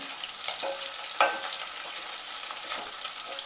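Onions frying in a pan for brinjal curry, giving a soft steady sizzle with a few light stirring scrapes and one brief louder clink, close and quiet, no voices.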